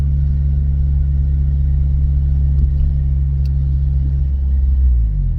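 Steady low car engine drone while driving, loud and continuous with a heavy rumble that settles slightly near the end, no talk over it.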